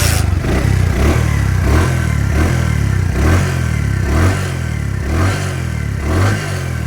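A Bajaj Platina motorcycle engine in Bogura, Bangladesh, revs steadily with repeated throttle pulses, loud and close, a rhythmic mid-pitched buzz with no talk over it.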